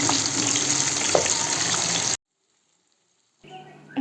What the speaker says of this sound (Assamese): এয়া মই মাছ ভাজি আছোঁ।